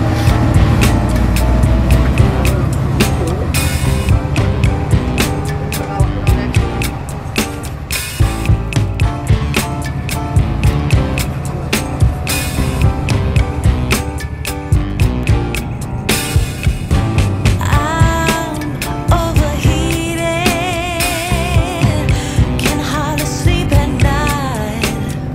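Inside a long-distance bus on the road, a loud continuous engine and road rumble with rattles and occasional bumps, plus shifting tonal sounds throughout.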